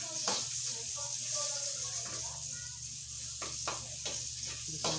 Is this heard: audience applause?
no